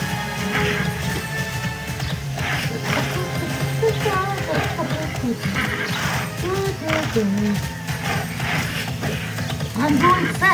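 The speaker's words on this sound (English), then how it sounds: "I'm going fast on my horse" Rapid hoofbeats of a galloping horse pound steadily throughout in the game Tera, mixed with game music and clattering effects while a person talks over it.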